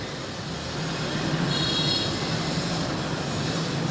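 A train waits at a railway station on a Kushtia to Rajshahi journey, giving a steady, loud rumble with faint metallic wheel squeal and station bustle throughout.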